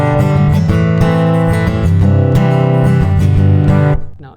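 Acoustic guitar strummed through a NUX AC-80 amplifier on its strum setting, steady full chords ringing close and loud for about four seconds before quickly fading out, no voices.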